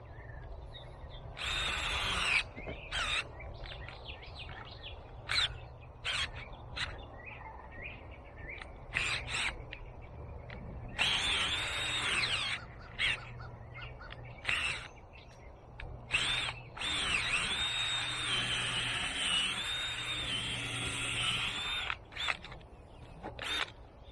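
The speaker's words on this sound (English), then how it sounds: "let me go ahead and drill one more hole right over here" A power drill bores a hole straight down into old garden manure, its whine running in loud bursts with brief pauses between, some faint birdsong in the background.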